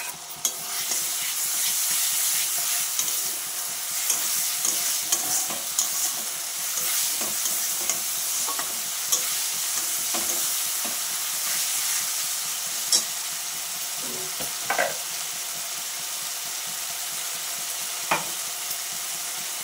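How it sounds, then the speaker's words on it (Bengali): Fried onion and a ground paste of cumin, ginger, dried chilli and garlic sizzle steadily in hot oil for a young jackfruit and prawn curry, with soft stirring scrapes and taps over the constant hiss. "দেখো পেঁয়াজটা ভাজা হয়ে গেছে। এইবার আমি মশলা দিয়ে দেবো।"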